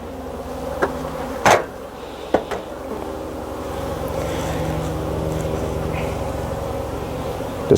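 Honeybees buzzing loudly as 3–4 frames are shaken from a small spring nucleus hive, a dense close drone that swells steadily, broken early by a few sharp wooden knocks and thumps.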